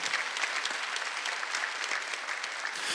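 A church congregation applauds during a Sunday worship service, dense and sustained clapping that fills the room evenly for the whole stretch, with no speech over it.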